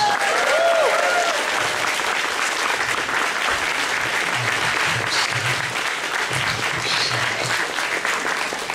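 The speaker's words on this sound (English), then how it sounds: "Thank you for a round of applause" Loud, dense audience applause fills a stage show, sustained for nearly nine seconds with a brief faint voice near the start and a low murmur beneath.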